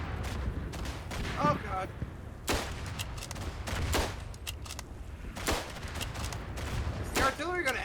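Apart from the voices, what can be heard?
artillery fire in the video game Verdun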